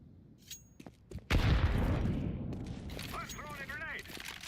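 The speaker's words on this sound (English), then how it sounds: "I'm throwing a flashbang." A flashbang thrown in a video game bursts with a loud sudden bang and a long ringing decay, preceded by faint clicks and followed by a brief voice over the fading noise.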